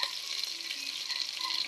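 Ground beef sautéing with tomatoes in a pan, a steady close hiss and crackle of frying with no talk.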